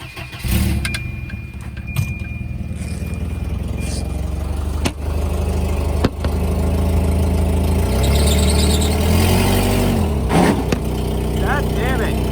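A car with poor traction on the ground spins its wheels while failing to climb a ramp into a garage: sustained engine revving with loud, drawn-out tire squeals that rise and fall over about twelve seconds.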